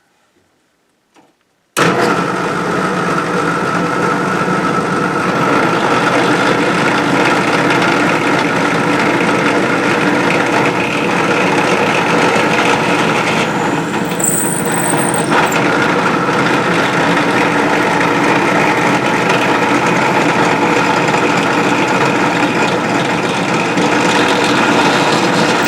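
A power drill bores holes into deer antler for a handmade cribbage board, running as a loud, steady, high-pitched whine for over twenty seconds after a sudden start, with no voices.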